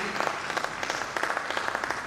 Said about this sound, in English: Can you please clap for